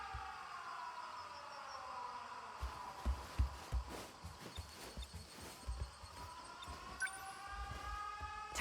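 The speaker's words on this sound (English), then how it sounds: "Air raid alarms have been sounded." A wailing air raid siren in the video game 13 Sentinels: Aegis Rim rises slowly in pitch, sustained and layered over scattered clattering thuds and knocks.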